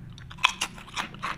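A sweet, crunchy packaged snack is bitten and chewed close to the mic, making several sharp crisp crunches in an uneven rhythm with no talking.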